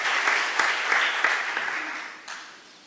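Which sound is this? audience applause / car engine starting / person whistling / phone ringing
audience applause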